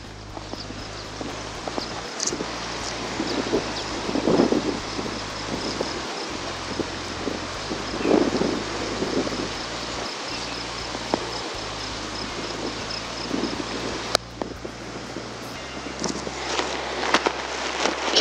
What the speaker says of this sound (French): il y a du vent évidemment